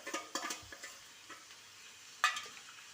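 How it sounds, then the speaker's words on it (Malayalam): Ginger garlic paste tipped into onions frying in a pan, a soft sizzle with a handful of quiet stirring scrapes and one sharper clatter late on. "ഉപ്പിട്ടതിന് ശേഷം അതിലേക്ക് അരച്ച് വെച്ചിരിക്കുന്ന ഇഞ്ചി വെളുത്തുള്ളി പേസ്റ്റ് മുഴുവനായി തന്നെ ഇട്ട് കൊടുക്കാം."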